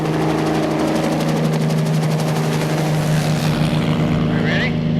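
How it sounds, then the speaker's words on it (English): A Hiller helicopter with a plexiglass bubble cabin lifting off, a loud, steady engine drone with rapid rotor chop heard from close by, and a voice speaking over it. "Surrounded by plexiglass, the Hiller helicopter gives the sensation of being suspended in midair"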